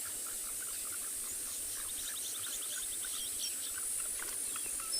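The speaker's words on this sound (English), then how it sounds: "But what you hear on the background also, it's all tree frogs." Tree frogs call in a dense, continuous chorus of rapid repeated chirps and trills in the background at sunrise on a southern African safari reserve, with occasional bird calls mixed in.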